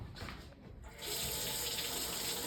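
Water gushes from the hot draw-off tap of an unvented hot water cylinder during a service check. A quieter trickle swells within a second into a loud, steady full-flow rush, close by and with no talk.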